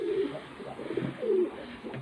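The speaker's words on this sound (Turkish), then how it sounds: "Güvercinleri de dışarı çıkardım." Pigeons let outside to feed coo softly nearby in a few short, throaty rolling calls over quiet background hiss.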